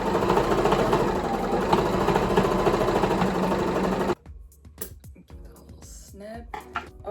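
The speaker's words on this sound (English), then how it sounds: "I'm just gonna sew along the dotted lines I made" A sewing machine runs in a continuous, fairly loud mechanical whir while stitching along marked lines on a thrifted garment, then stops abruptly, leaving scattered clicks and rustling of fabric.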